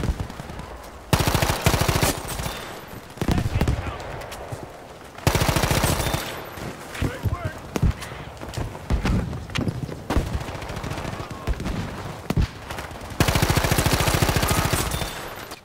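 Rapid automatic bursts from an M2 Carbine in the video game Battlefield 5 come in several long, loud strings of closely spaced shots, separated by brief gaps filled with game noise.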